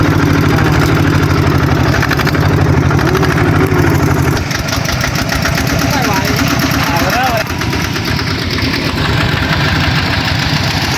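A walking tractor engine runs steadily and loudly throughout, its rough chugging hum continuing close by while people talk over it.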